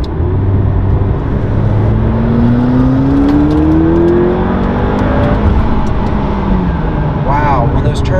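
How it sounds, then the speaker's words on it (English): McLaren supercar engine revving from inside, a loud droning roar that climbs in pitch as the turbos spool, with rushing air, a whirring whine and some faint background voice. "when those turbos come on and you hear the air rushing through, it's just sensational"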